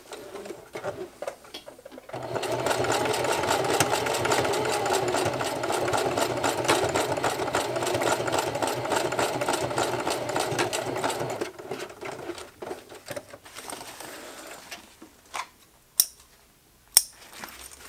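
A Singer HD sewing machine stitches a bottle carrier through thick doubled layers and binding, a rapid loud mechanical chatter running for about nine seconds before slowing into short bursts and clicks.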